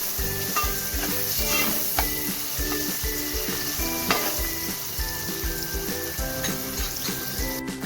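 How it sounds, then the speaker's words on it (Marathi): Onion sautéing in a pot for a tempering with bay leaves, a steady bright sizzle with repeated spoon knocks and scrapes against the pot, continuous and close, no talking. "छान कांदा परतवून घेणार होते."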